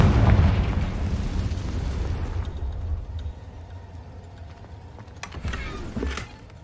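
A Confringo fire-blast spell exploding in Hogwarts Legacy, a loud booming burst that rumbles heavily at first, then decays into a quieter tail with a few crackling hits near the end.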